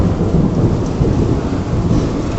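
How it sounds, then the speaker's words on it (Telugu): Deep, continuous rumbling thunder rolling overhead during a heavy rainstorm with wind, loud and close, with steady rain noise underneath and no voices. "ఇంతకే దమ్ము సౌండ్ వచ్చింది ఆకాశం నుంచి"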